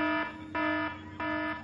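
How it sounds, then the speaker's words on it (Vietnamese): Oka's alarm system blares in a repeating electronic buzz, three loud harsh pulses each lasting about half a second, steady and rhythmic with no talk. "Hệ thống báo động của Oka."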